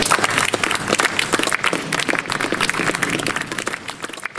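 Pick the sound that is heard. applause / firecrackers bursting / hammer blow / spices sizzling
applause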